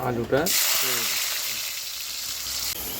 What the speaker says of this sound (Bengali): আলুটা ভাজা হয়ে গেছে, এখন তুলে নেব।